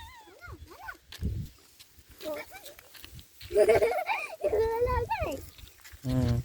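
High, wavering, cat-like bleats from a deer fawn call out repeatedly at a deer farm, interspersed with quiet talking nearby.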